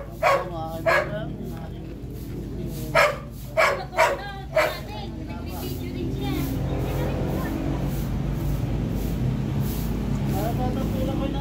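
Dog barks in several sharp bursts in the first half, close and fairly loud, then a steady rumbling background noise takes over; a person talks nearby.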